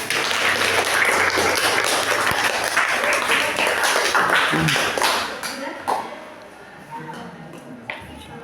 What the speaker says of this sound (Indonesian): Ya, bagus sekali. Tepuk tangan.